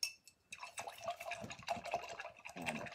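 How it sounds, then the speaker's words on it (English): Paint brushes being rinsed in a water cup while painting a snowman porch sign, with sloshing, swishing water and light clinks against the container, fairly close and continuous after a brief quiet start, no talking. "Go ahead and rinse the brushes."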